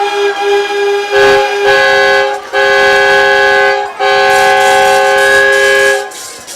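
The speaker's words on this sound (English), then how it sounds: "Some more train horns." Loud, steady train horn blasts sound at a high school football game in several long sustained tones with brief breaks between them, close and dominant.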